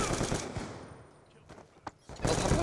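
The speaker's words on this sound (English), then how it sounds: "Why are you shooting me?" Call of Duty gunfire: loud rapid bursts open the stretch, fade into quieter scattered shots and a single sharp crack, then a heavy burst of automatic fire returns at the end.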